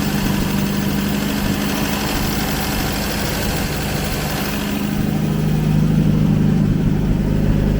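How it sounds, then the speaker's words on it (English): A car engine warming up idles a little high with a steady, close mid-pitched hum and a faint rhythmic knock, loud and unbroken, with no talking. "Idling a little high, but I'm just going to let it warm up"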